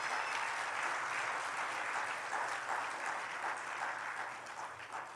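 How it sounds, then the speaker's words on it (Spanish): Church congregation applauding during a Spanish-language sermon, a dense steady wash of many hands clapping that holds loud and even before easing off slightly at the end. "Aleluya, dele fuerte el aplauso."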